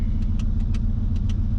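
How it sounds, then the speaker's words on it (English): A Mazda B Series pickup truck with Holley Sniper EFI and an open exhaust cutout idles with a loud, steady low-pitched engine rumble, close up, with light rhythmic pulsing. "opened up my exhaust cutout, so the truck is going to sound a lot louder from the exhaust."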